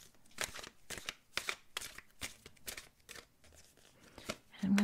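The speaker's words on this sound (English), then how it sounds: "I'm going to go ahead and give it a shuffle." Oracle cards are shuffled in a series of brisk riffling bursts, close and crisp, with a brief voice near the end.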